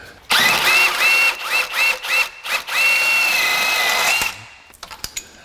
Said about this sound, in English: Now I'll be able to remove this bolt.